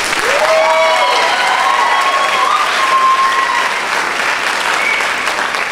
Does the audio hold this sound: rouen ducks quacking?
no